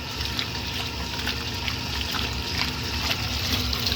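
A 1964 Speed Queen A49 washing machine rinses work pants, giving a steady, close wash of sloshing and trickling water over a low mechanical hum that rolls on without a break.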